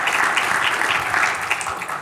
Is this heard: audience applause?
yes